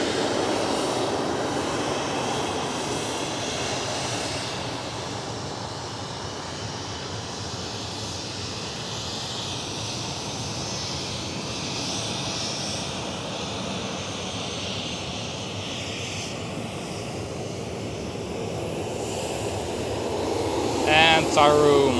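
A KLM Cityhopper aircraft at Amsterdam Schiphol Airport gives a continuous engine roar that holds steady and swells louder toward the end, while a voice talks over it.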